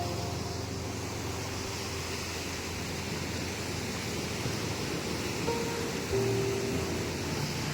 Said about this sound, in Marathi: हे बघा आता इथून समुद्राच्या लाटा बघा केवढे मारतात